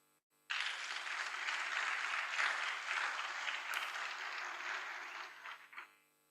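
An audience at a mobile app launch event breaks into steady, full applause for about five seconds before the clapping thins out and stops.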